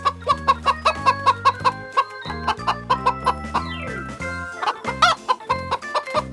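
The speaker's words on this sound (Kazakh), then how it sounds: "Тауық." A chicken clucks in a quick rhythmic series of short, close clucks, heard over a light musical accompaniment.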